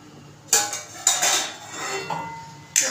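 A metal lid is set onto a pot of semolina sheera, giving sharp clanks and clinks as it knocks against the rim several times in under three seconds, with quieter rattles between.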